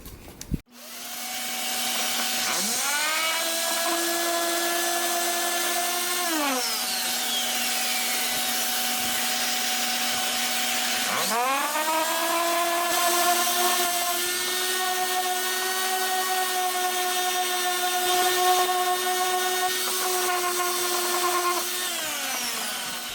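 A power sander with 80-grit paper whines continuously against a wooden box joint, its pitch dipping and rising twice as it bears down and eases off, loud and close.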